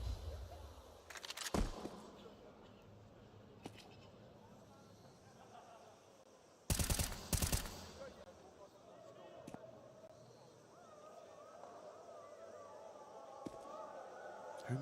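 Rifle gunfire in a Counter-Strike 2 esports grand final comes as a few loud, sharp bursts at the start and around the middle, heard under a commentator talking.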